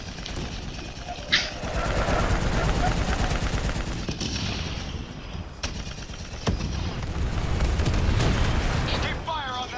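Rapid gunfire in the Black Ops 3 campaign, dense automatic bursts and heavy booms roaring almost continuously and loud, with short gaps, while a voice talks over the battle.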